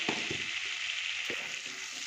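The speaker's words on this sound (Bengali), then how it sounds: "দেবো একটু জিরে ফোড়ন" Cumin seeds temper in melted butter in a pan over low gas, a steady bright sizzle with soft stirring taps and small pops, close and even throughout.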